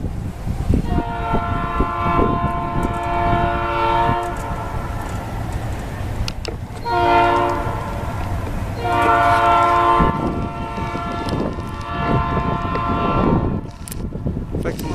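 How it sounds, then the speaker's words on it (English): A CN ethanol train passes a crossing in Plant City, Florida, sounding a very old horn in several long, loud blasts over the rumble of rolling cars, and someone talks briefly. "a train coming with a very old horn."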